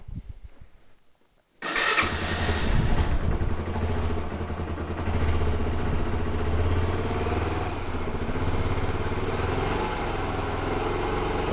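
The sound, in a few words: Yamaha YBR 125 motorcycle engine running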